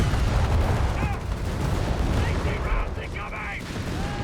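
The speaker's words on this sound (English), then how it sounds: "Large line here of guns just firing off from each side." Guns on both sides of a battle in the video game Company of Heroes 3 fire nonstop, a loud, dense rattle of gunfire and booming shots layered with some tonal game effects, with no pauses in the din.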